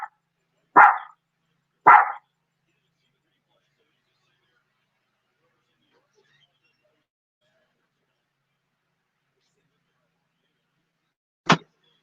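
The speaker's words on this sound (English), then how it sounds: "Who's barking at who?" A dog barks twice in quick succession, loud and close, then goes quiet for a long stretch before a single sharp bark near the end.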